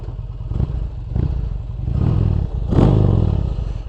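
Arch KRGT-1 V-twin motorcycle engine revving from an on-board position, deep throbbing blips that rise and fall in several surges, the last and loudest swelling near the end.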